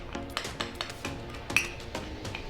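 Chicken wings tossed with flour and spices in a bowl, a run of sharp clinks and taps from a utensil against the dish, about a dozen irregular strikes, close and fairly quiet.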